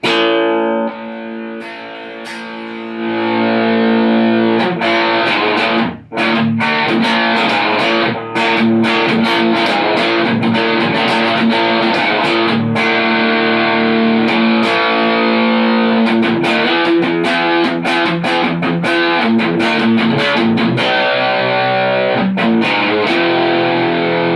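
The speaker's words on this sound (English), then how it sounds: "Now let's hear this distortion." Heavily distorted electric guitar played through a small Caline Lorcan practice amp, gritty sustained chords and riffs with sharp picked attacks, loud and continuous with no talking.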